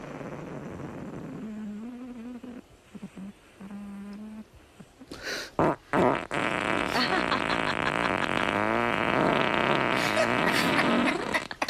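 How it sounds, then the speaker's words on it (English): A long bout of loud, close farting, starting with a few low buzzy blasts, then a stuttering series before a sustained rough, raspy stretch lasting several seconds, with no talk over it. "I've never heard such farting."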